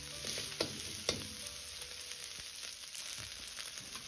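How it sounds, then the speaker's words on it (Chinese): Green and red bell pepper chunks stir-fry in hot oil with ginger and scallion, giving a continuous close sizzle with two sharp spatula knocks early on and softer scraping after. "再倒入切好的青红椒块，炒出清香的味道"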